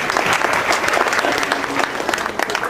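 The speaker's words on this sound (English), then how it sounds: "Big applause for them too." Crowd applause at a Holi celebration announcement, dense and continuous clapping from a sizeable audience, loud and steady throughout without pause.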